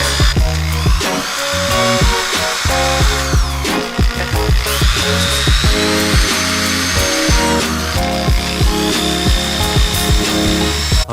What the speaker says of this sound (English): I just put those 2 screws in so I can pretty much drill the rest of the holes.